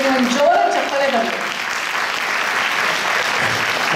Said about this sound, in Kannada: ಒಂದು ಜೋರ ಚಪ್ಪಾಳೆ ಬರಲಿ